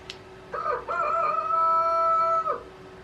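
Rooster crows once in a workshop at night, a loud, clear, sustained call about two seconds long after a brief opening note, over a faint steady background hum.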